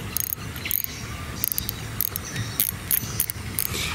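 A Proberos Promax fishing reel with an upgraded star drag clicker gives off quick ratcheting clicks in short repeated bursts, close and fairly crisp, with no talking.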